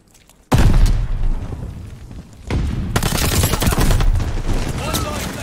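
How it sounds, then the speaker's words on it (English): A grenade blast in Champion Hill bursts in loud and close, then a second heavy burst is followed by dense, rapid gunfire that keeps going to the end. "Tossing grenade."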